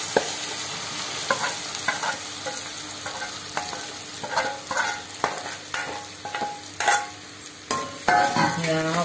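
Mustard seeds splutter and crackle in hot oil while being stirred, with sharp irregular pops and spoon scrapes over a soft sizzle, close and fairly quiet.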